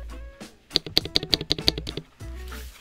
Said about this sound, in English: that spacebar sounds pretty good